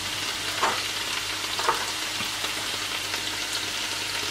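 Mushrooms with garlic powder fry in a pan, giving a steady close sizzle with a few soft stirring scrapes and no talking.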